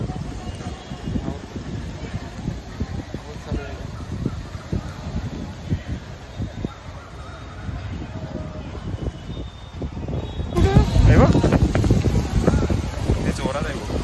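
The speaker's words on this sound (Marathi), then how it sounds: "आणि वारा पण तेवढाच जोरात वेगाने वाहतो" Strong wind roars and buffets the microphone in gusting, rough bursts during a dust storm with heavy rain in Mumbai, swelling louder near the end, with voices in the background.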